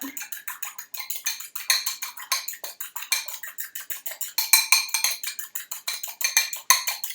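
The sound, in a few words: scrambling egg whites in a bowl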